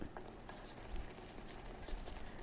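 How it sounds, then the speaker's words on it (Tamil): Low, steady bubbling of thick sugar syrup simmering in a pan, with soft pops scattered throughout and no one speaking. "இப்போ வந்து கொதிக்க ஆரம்பிச்சிருச்சு"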